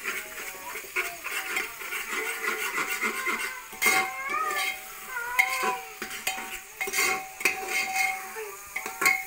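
A spoon stirs a paste of ginger, garlic, dried chili and onion in a cooker, giving repeated close scraping and clinking against the metal pot in uneven bursts, with light sizzling underneath and no talking.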